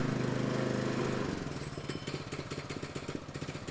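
DR PowerWagon motorized wheelbarrow climbing a driveway in slow first gear, its small engine running steadily with a loud, even rumble that shifts into a rhythmic pulsing chug as it moves.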